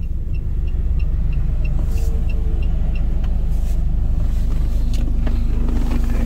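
A 2010 Chevrolet Lacetti CDX with a 1.6-litre engine and automatic gearbox idles just after start-up, a loud, steady close-up rumble with faint ticking chimes and a few light clicks, and no talking.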